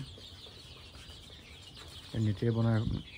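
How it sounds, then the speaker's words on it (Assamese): Local chickens on a small farm holding about 300 birds cluck and call, first faint in the background, then a loud nearby cackling burst toward the end. "লোকেল মুৰ্গী 300 আছে ইয়াত।"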